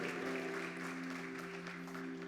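A church congregation applauding, a soft steady patter of many hands clapping heard from a distance, with a sustained organ or keyboard tone humming underneath.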